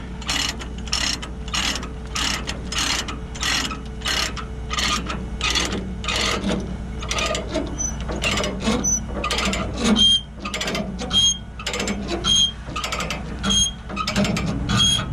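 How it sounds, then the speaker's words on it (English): A ratchet chain binder tightening a chain on a trailer while loading a Cat 938K loader, with repeated rhythmic metallic clicks and clanks from the ratchet, close and loud, with no talk. "I go like this, and I'll actually do it like this so the slack goes that way, and I just tighten it down."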